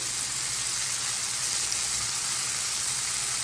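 Onions fry in oil in a pan for chicken and pineapple fried rice, giving a steady, dense sizzle that stays even and close throughout with no talking.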